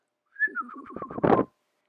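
A person whistles a short, wavering bird-like call imitating a groundhog's alarm whistle, rising into a brief breathy burst at the end, then silence.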